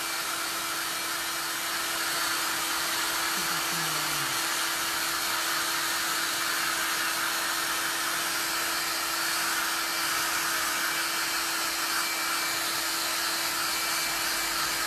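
A hair dryer blows steadily on damp folded newspaper during a craft project, a continuous loud whooshing hum that holds unbroken throughout with no talking.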